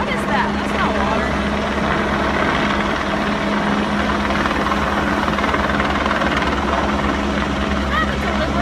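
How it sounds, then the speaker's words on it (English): A helicopter roars steadily nearby, its dense rotor thrum and engine noise filling the air continuously, with people talking faintly underneath. "now that we're done being very rudely interrupted by a helicopter"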